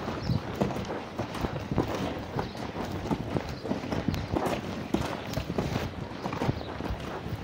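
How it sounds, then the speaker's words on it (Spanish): Hooves of a fast-moving stallion clip-clopping on the ground, a rapid, uneven series of close, sharp thuds continuing steadily with no talk over them. "Un caballo con velocidad, que ya empieza a posear también igual, acomodándose en los lados."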